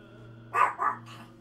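A dog barks twice in quick succession, fairly close and loud against a steady low hum, with a fainter third yelp trailing off after a short pause.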